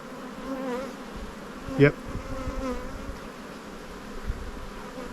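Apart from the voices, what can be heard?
honeybees buzzing around an open hive during inspection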